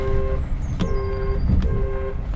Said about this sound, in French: Oh, c'est de bruit de klaxon.